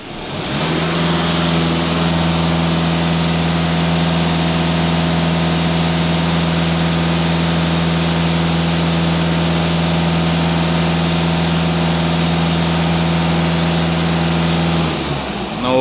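A diesel car engine with heavy soot buildup and a NOx fault idles steadily at close range, a constant low hum that rises slightly as it settles and runs without a break.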